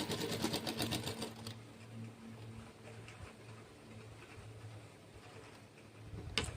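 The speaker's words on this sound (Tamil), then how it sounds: "மேலேருந்து தையல் போடுறேன்" Sewing machine stitching a blouse from the top, a close, fast mechanical whir and rattle that runs steadily, eases slightly in the middle and picks up again at the end.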